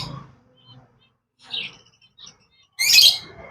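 Finches chirp in short bursts as the birds are released, the high twittering calls separated by brief pauses and ending in a louder, busier flurry of chirps close by.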